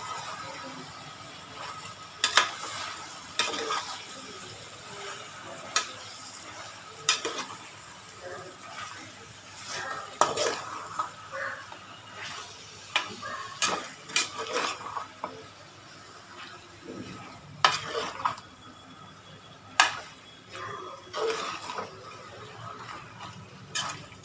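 Kayalpattinam kalari curry stirred in a pot, scattered scraping and clinking strokes of a spoon against metal at irregular intervals, fairly quiet with a low background hum.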